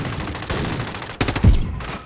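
Rapid gunfire in the video game Modern Warfare 2, a short burst of loud, close shots with a heavier impact near the end of the two-second stretch.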